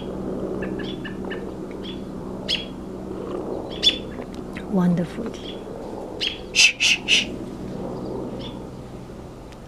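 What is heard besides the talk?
birds chirping in backyard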